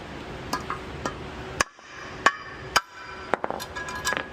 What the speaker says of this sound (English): And how we get them in? With a hammer.